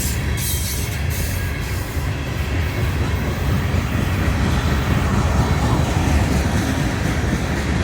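A CSX heritage unit freight train rolls past at Folkston, Georgia, in freezing weather, a loud, close, continuous rumble of wheels and railcars with faint rhythmic clatter throughout.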